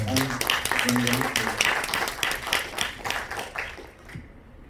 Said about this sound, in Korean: 다시 한번 감독님께 박수 한번 주시고요